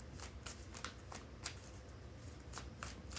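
Tarot cards being shuffled by hand in a quiet room, a soft continuous riffling with repeated crisp snaps and flicks of the deck, close and fairly faint.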